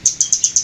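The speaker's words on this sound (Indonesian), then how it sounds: "burung teledekan gunung" A teledekan gunung bird from Tasikmalaya, West Java, at a bird kiosk, gives five sharp, high chirps in an even, quick rhythm, close and clear with no talk over them.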